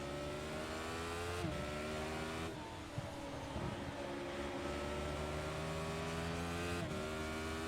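A race car engine in the iRacing sim revs and accelerates through the gears, a loud continuous buzzing drone that rises in pitch with brief dips at each shift.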